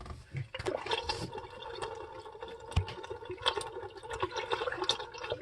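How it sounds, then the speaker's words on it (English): Water is poured from a small bottle down the drain hole inside a Bosch B22CS30SNS refrigerator, a close gurgling trickle and splash that drains away quickly over a few seconds. "Got a little bottle of water here. Pour down that hole. It should drain directly out that hole."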